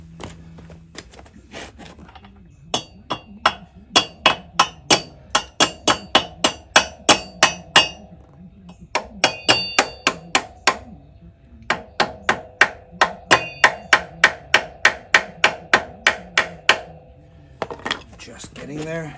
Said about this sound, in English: now we're going to tap the axle. So it's going through the bushing, but all the way through.